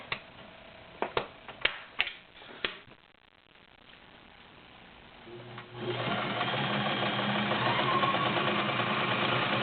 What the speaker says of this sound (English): There's your arrowhead using the regular cam.